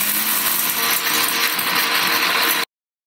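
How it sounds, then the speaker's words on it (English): Masala spices being ground into a coarse powder in a kitchen mixer grinder, making a steady, loud whirring grind that runs unbroken for a couple of seconds and then stops abruptly. "Meanwhile, we can grind our masala into a powder."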